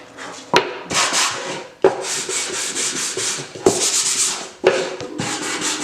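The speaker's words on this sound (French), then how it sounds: "Ponçage et cassage des arêtes pour préparer la pose de l'adhésif aluminium." Rhythmic back-and-forth sanding strokes on wooden mitre-cut edges of a Faraday box, close and loud, with sharp knocks where the sanding block is repositioned between passes.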